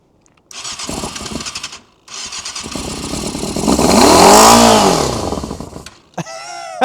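A Yamaha YZF600R sports bike with a long-abandoned engine cranks and catches, running loud and close for several seconds with a rising and falling rev before cutting out, then a brief restart burst.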